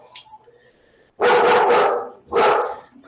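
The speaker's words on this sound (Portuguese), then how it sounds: "tem meus cachorros aqui acabam latindo" Dogs barking in a home during a recorded lesson: quiet room tone, then two loud, sustained bursts of barking close by, with no talk over them.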